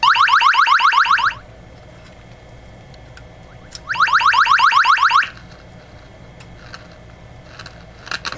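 A Bally pinball machine sound board, just repaired, plays electronic sound effects: two loud bursts of rapid warbling trills, each about a second and a half, separated by quiet stretches with faint clicks.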